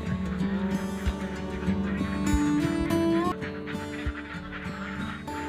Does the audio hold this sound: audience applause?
no